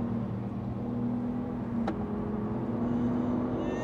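A Lamborghini Huracan STO driving on a track, its engine holding a steady low drone with a brief sharp whoosh midway, fairly close and even in level with no talk.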